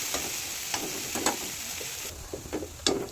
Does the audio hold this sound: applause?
no